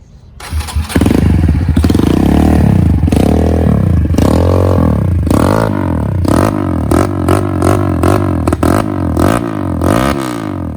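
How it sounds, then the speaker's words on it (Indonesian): A Kawasaki KLX 150 trail motorcycle starting up and running close by: the engine catches after a brief crank, then settles into a loud, thumping idle with repeated throttle blips swelling and dropping. "kita langsung nyalain motornya"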